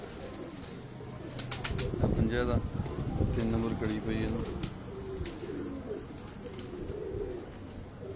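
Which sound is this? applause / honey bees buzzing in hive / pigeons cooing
pigeons cooing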